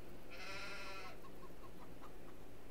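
A sheep in Farming Simulator 22 gives one clear, drawn-out bleat, followed by a few faint trailing calls over steady farm ambience, with no voices.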